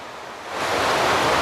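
Sea waves wash onto the sandy beach at Laem Klat in Trat, a steady broadband surf roar that swells louder as the water rushes in.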